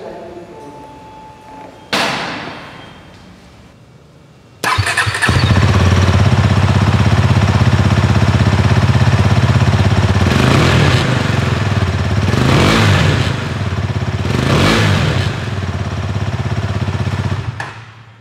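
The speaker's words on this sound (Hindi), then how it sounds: "अभी इसका एग्जॉस्ट नॉट थोड़ा सुनते हैं" Husqvarna Svartpilen 250 motorcycle, Bajaj-built, starts up after a few quiet seconds, then idles loudly and close with a thumping exhaust note, broken by several sharp throttle blips that rise and fall.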